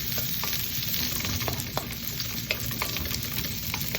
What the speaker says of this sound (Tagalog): Magigisa na tayo ng sibuyas. Yan, sibuyas so ang aking inuuna. So ako ay nagigisa.